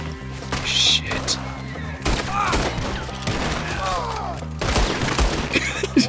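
Gunfire in Red Dead Redemption 2, several loud cracks and thuds at irregular intervals amid a chaotic outdoor fight, with voices and other game sounds mixed in.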